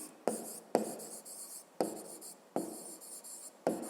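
Pen or pencil writing by hand on paper during a maths lesson, five separate scratchy strokes spaced about half a second to a second apart, close and clear with no talking.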